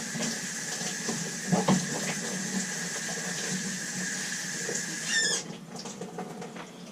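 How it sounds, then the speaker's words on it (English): Running water rinses a siphon tube while cleaning homebrew carboys, a steady close splashing patter that cuts off abruptly near the end. "So let's pull the siphon tube out first. Give that a nice rinse."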